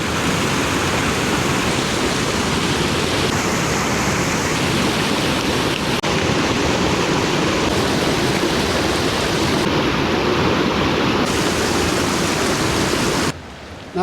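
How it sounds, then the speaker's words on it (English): A powerful waterfall torrent in Glen Coe, Scotland, pours as a dense, steady, loud rushing roar close by, unbroken for the whole stretch before cutting off abruptly near the end. "Although it's not like a huge river, it's still pretty powerful looking. Good sound off it. So you have the raging torrent back there,"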